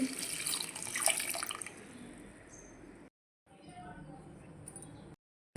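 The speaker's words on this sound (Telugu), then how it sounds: "వాటర్ పోసేసుకున్నామండి" Water pours into a pot holding a cup of jaggery, first as a fairly loud, splashy stream, then a quieter, steadier trickle that stops briefly before resuming.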